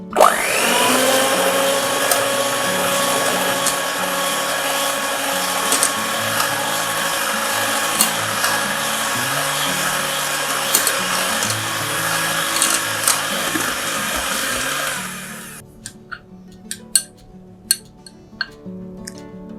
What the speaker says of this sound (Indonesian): Saya masukin susu bubuknya. Kita kocok lagi.